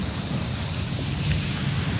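Ocean surf rolls onto a dark beach at night at Cimaja, West Java, a steady dense roar with wind buffeting the microphone and no voices.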